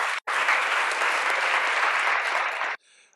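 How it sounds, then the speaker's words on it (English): Dense, steady applause from an audience at a climate funding summit in Vermont, greeting the federal delegation, sustained for nearly three seconds after a brief gap and then cutting off abruptly. "round of applause for our federal delegation"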